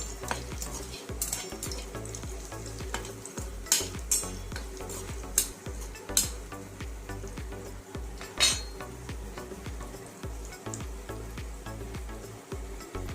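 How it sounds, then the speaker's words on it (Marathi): Red chillies and onion frying in a pan, steady sizzling with frequent scraping stirs and metallic clinks of a spoon against the pan, close and alone without talking. "लाल मिरच्या पण छान तळून घ्या।"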